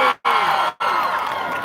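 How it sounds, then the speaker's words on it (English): A crowd at a protest for Palestine cheers and shouts in loud, close bursts, broken by two brief silent gaps. "let's give a big round of applause to Algerian support."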